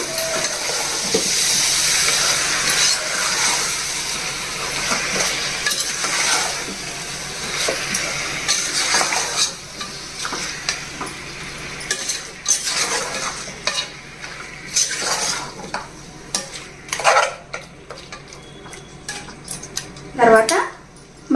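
Large mutton pieces stirred in a cooking pan with masala: repeated metal scraping and clanks of the spoon over a sizzling fry, louder bursts near the end.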